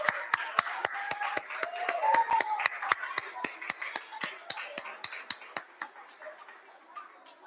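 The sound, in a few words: audience applause at school awards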